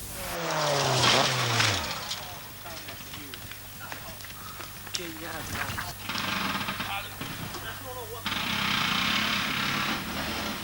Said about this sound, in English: Probably just a fan hitting the radiator, I suppose.